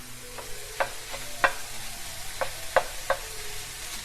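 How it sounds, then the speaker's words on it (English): Onion softening in a hot pan crackles quietly while a utensil stirs it, producing several sharp, close taps and scrapes spaced unevenly over a low sizzle. "Okay, putting the onion in. Get that onion nice and soft and translucent. Okay, we're going to give it a quick stir."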